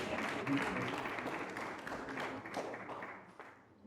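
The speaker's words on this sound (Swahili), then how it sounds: "Piga makofi kwa ajili ya Yesu." A church congregation at a seminar claps for Jesus, a short burst of crowd applause mixed with voices that fades toward the end.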